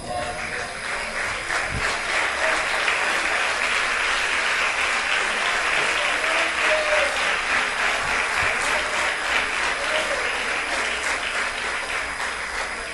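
Congregation in a church stands and applauds, a long, steady wash of many hands clapping at even loudness for over ten seconds, with faint voices mixed in.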